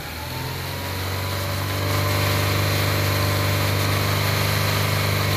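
A 2004 Chevy Aveo with a misfire and surging problem, its engine rising from idle to about 3,000 RPM and holding there as a steady, loud, close hum with a strong low drone.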